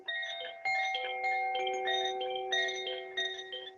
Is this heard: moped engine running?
no